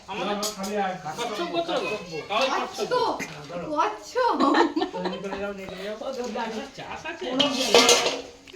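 Pots, pans and cutlery clattering in a home kitchen during cooking, with frequent clinks and scrapes under near continuous chatter and some laughter.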